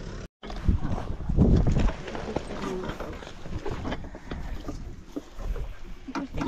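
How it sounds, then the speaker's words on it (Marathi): A boat crossing a river near a solar water lifting project in Kas, with water sloshing and paddle-like splashes and knocks, close and moderately loud, with voices talking faintly in the background. "बोट है तो बोट से उस पार जाएंगे"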